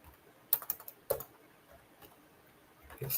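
Someone types on a computer keyboard, tapping keys quietly in a few short, uneven bursts with pauses between them.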